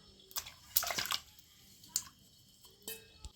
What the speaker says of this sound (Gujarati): પહેલાં તો આપણે પાણી નાખી દઈએ